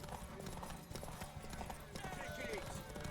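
Horse hooves clip-clopping in The Witcher 3: Wild Hunt, a steady patter of hoofbeats under game voices and background music.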